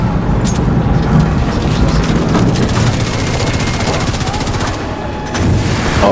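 Gunfire in a shooting video game comes in dense bursts and booms, loud and continuous, forming a heavy barrage that fills the whole stretch.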